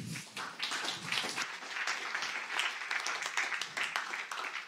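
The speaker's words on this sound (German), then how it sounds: "Einen herzlichen Applaus bitte" Audience applause welcoming a speaker at a German talk on IT security and resilience strategy, a steady spread of many hands clapping at moderate level for several seconds with no voices.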